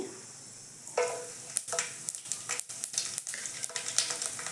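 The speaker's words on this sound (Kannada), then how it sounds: "ಈಗ ಎಣ್ಣೆ ಜೀರಿಗೆ ಬೆಳ್ಳುಳ್ಳಿ ಹಾಕಿ ಈಗ ಕರಿಬೇ ಹಾಕಿದ್ರಿ" Cumin and garlic sizzle in hot oil for jeera rice, a soft crackling fry that starts suddenly and continues with irregular pops and stirring scrapes, heard alone and fairly faint.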